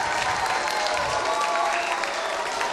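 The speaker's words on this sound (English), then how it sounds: "Can you give a round of applause to Mrs. LaFlame and Mrs. Skarupa for helping us with all of this?" Dense, steady applause from a group of second-grade children at a school event thanking two teachers, continuous and fairly loud for the whole stretch.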